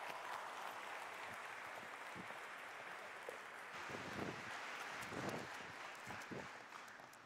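A large audience claps at the inauguration of a summit in Amaravati, a steady wash of applause running continuously throughout with a few louder bursts near the end.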